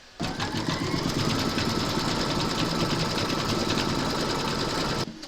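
An embroidery machine stitching a quilting round on a crazy patch notebook cover, a fast steady rattling hum that starts abruptly and runs evenly for about five seconds before stopping.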